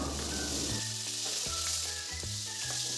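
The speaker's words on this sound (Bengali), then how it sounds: "এবার এর মধ্যে কেটে রাখা আলুগুলো দিয়ে দিলাম" Cut potatoes frying in hot oil with cumin in a wok, a bright constant sizzle punctuated by a few soft knocks and stirs, close and without talk.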